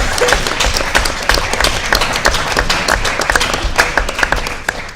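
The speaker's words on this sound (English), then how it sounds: "if you have a round of applause" A student audience claps loudly and continuously after a candidate's speech at a union leadership election debate, a dense, even round of applause with no pauses.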